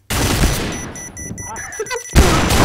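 Loud, rapid gunfire in the shooter game Point Blank, a dense, steady barrage that thins midway under faint tones and then bursts back in at full strength.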